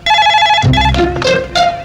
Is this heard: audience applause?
no